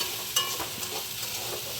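Okra frying in a pan, a soft continuous sizzle with a few light clinks and stirs, close and fairly quiet.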